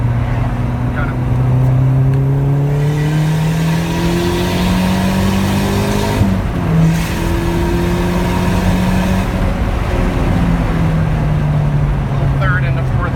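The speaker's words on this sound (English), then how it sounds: "Driver's window's open, so the wastegate, what you heard, is the loudest it normally is from inside the car." A Callaway turbo Volkswagen Rabbit accelerates steadily from third into fourth gear, heard from inside the car with the driver's window open. The engine drone climbs, drops briefly at the shift and climbs again, loud and continuous with the turbo wastegate.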